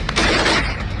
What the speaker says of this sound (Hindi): कई घंटों तक दोनों तरफ से फायरिंग होती रही